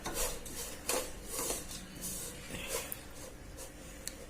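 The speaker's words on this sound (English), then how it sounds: "So you can press it with the spatula" A spatula scrapes and presses melting jaggery in a pan, with soft rubbing strokes and occasional light clinks of metal against the pan, fairly quiet and close.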